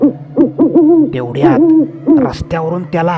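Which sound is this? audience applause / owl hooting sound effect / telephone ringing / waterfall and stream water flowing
owl hooting sound effect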